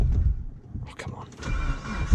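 A Mitsubishi Evo cranks over and its engine catches into a low running rumble close by, with a person talking over it.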